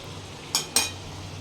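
A spoon stirring pulao in a cooking pot gives two quick metallic clinks in close succession, near and fairly light, over a quiet background.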